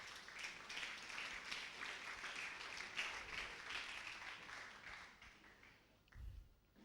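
A church congregation applauds after a scripture reading with steady, fairly faint clapping that holds for several seconds and then thins out toward the end.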